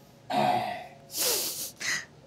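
A person coughs in a few short, breathy bursts, close by, on a windy street with a jeep nearby.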